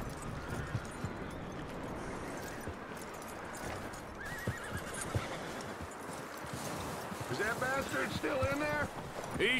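A horse whinnies and neighs while hooves clop along in the video game Red Dead Redemption 2, with people talking over the animal sounds throughout.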